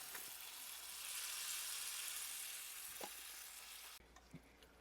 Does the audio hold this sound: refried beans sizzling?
yes